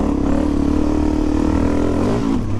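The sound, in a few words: Suzuki DRZ400 motorcycle riding in backyard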